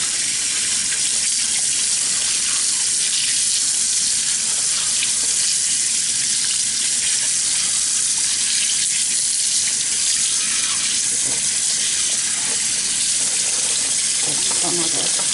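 Steady running tap water pours over food in a kitchen sink as salt is rinsed off, a continuous loud broadband gush filling the whole stretch with small splashing variations, while cooking stew peas.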